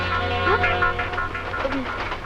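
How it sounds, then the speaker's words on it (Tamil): A moving train in a film scene: a steady rumble and rolling drone continue throughout, with voices and faint tonal sounds over it. "இந்த ரயில் எங்க போகுது?"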